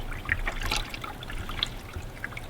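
Water runs from a hose into a homemade backyard bait well made from an old 55-gallon tank, a steady close trickle with light splashy dribbles and bubbling throughout.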